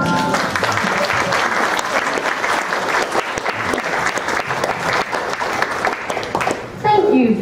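An audience claps after a song at a stage performance, with steady, full applause throughout that cuts off at the end, where a voice begins speaking.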